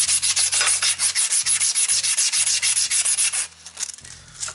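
Emery cloth is rubbed over a rusty part of a two-stroke dual-sport enduro motorcycle during restoration. The scrubbing is rapid, rhythmic and close, with rough back-and-forth strokes that slow and fade in the last second.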